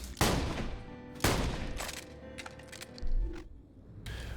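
Tidal Wave gun from Borderlands 2 fires a few heavy, booming shots, the first two strong and spaced about a second apart, followed by a quieter mechanical rattle and a later third thump with ringing tails.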